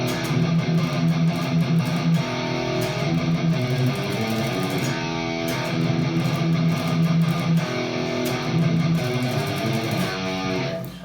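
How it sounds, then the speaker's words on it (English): A metal riff on a six-string electric guitar in standard tuning, loud and distorted, with rapid triplet chugs on the open string and shifting chord stabs, played alone with no voices. "So if you have a 6 string and you're in regular tuning, it would sound like this."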